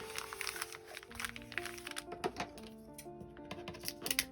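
Material for a handmade spring journal being cut by hand, a steady run of close crisp snips and crinkling rustles with sharp irregular cracks, fairly faint against a quiet room.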